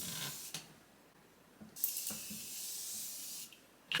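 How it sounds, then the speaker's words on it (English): Morphe Continuous Mist setting spray hisses out in a few bursts, one long steady misting spray lasting nearly two seconds, close and clear with no talking. "I'm going to use my Morphe Continuous Mist"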